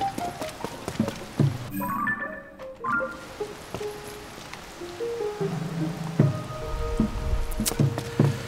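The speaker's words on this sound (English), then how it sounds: "But the rain shouldn't be coming down though." Steady rain patters across the ground in Zelda: Tears of the Kingdom, a continuous wash beneath scattered chiming game tones and footstep-like thumps, with no voices.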